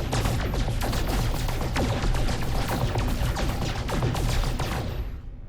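Photon cannon fire in the video game No Man's Sky, a dense, continuous barrage of rapid crackling blasts that stays loud throughout before tailing off at the very end.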